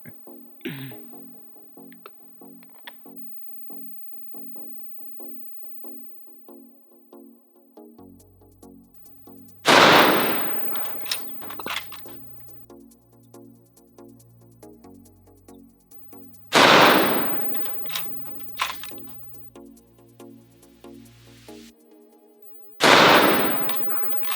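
Three loud, sharp shots from a Bergara HMR B-14 precision rifle at a range, spaced several seconds apart, each with a ringing tail over a steady droning tonal background.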